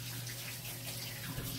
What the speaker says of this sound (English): finish rinsing off my hands real quick